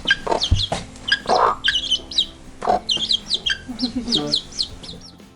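Chickens and chicks clucking and chirping in a rural yard in a Yakut village, several overlapping calls in short bursts throughout, fairly close.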